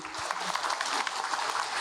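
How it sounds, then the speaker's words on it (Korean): A dense, steady wash of audience applause at a public lecture, many hands clapping at once, filling the whole moment without a break. "귀한 시간 내주신 치동철 박사님께 다시 한번 큰 박수 보내주시기 바랍니다"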